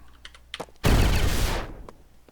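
A single loud, close explosion blows doors apart in Wasteland Remastered, a sudden broadband blast that rumbles for under a second before fading, framed by a few light clicks.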